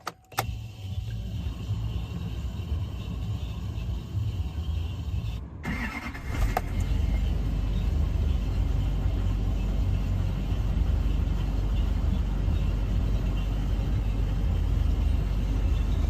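A 2008 GMC Sierra 3500HD pickup truck engine cranks and catches, then settles into a steady, loud idling rumble that continues without talk.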